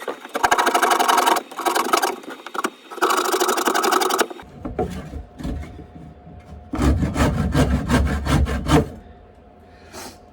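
A power saw rips through wood strips for a bookshelf in rapid buzzing bursts, two long cuts followed by shorter scattered rasping passes and then another stretch of cutting, all loud and close with no talking.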